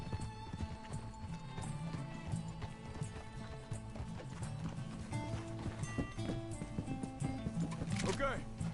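Horse hooves clip-clopping in Red Dead Redemption 2, with a whinny near the end, all under steady game music and someone talking throughout.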